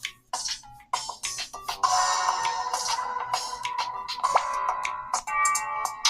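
Melodic music plays through the single small speaker of a HOTWAV Hyper 7 phone, bright and thin with tonal notes and a steady beat, no voices.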